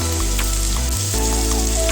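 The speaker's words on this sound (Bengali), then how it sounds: "দেখতে পাচ্ছেন গাজরের টুকরোগুলো আমি তেলে ছেড়ে দিয়েছি।" Carrot pieces frying in hot oil for a vegetable korma (navratan curry), giving a steady, moderately loud sizzle and hiss that runs without a break for two seconds, with a low, even hum beneath it.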